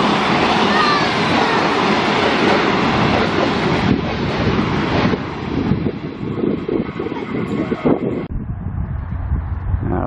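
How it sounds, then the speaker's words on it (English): Empty coal train rolling through Ebbw Vale, its wagons rumbling loud and close in a steady broadband roar with wind buffeting the microphone, easing off toward the end. "this is Ebbw Vale with an empty coal train coming through"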